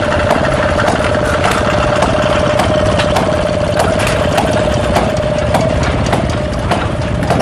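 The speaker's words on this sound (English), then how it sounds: "Here's some more of those hit and miss engines." A hit-and-miss engine runs nearby at the Rock River Thresheree in Edgerton, Wisconsin, its regular chuffing beats ticking along at a steady rhythm over a constant low mechanical hum.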